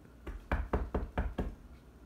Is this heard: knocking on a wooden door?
yes